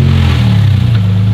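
A drift car's engine idles loud and close after being started with the key, a steady low rumble with a slight dip and uneven clatter.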